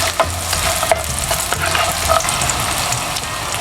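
Garlic and ginger stir-frying in a hot pan, a loud steady sizzle broken by quick scraping strokes of a spatula, close and alone.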